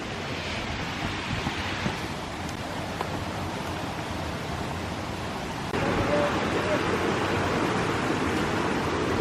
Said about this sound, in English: So it's a relatively small waterfall